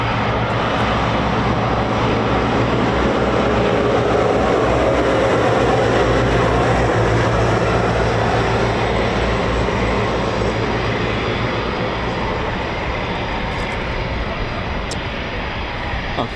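A Eurofighter Typhoon FGR4 jet at an RAF air show roars loudly and continuously overhead, a broad thick engine rumble that swells and then slowly eases as it passes, with no talk.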